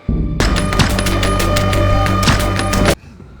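A film gunfight with rapid, dense bursts of gunfire. The shots hammer loudly for about two and a half seconds, then cut off abruptly to quiet.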